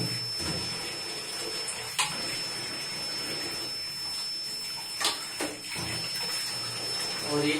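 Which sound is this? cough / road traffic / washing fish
washing fish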